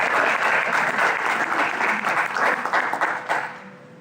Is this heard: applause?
yes